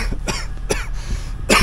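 Several sharp coughs in quick succession, close and loud, from a person breathing cold air outdoors at around minus forty degrees, with no talk.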